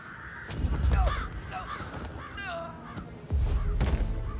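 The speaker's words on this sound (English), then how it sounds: "I'll never get rid of those stupid birds." Crows cawing in the video game Hitman 3, set in England: several harsh caws in quick succession over a busy, muffled game soundscape with low thuds.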